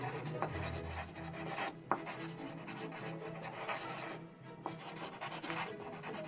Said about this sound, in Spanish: vamos a colorear con estos colores que están aquí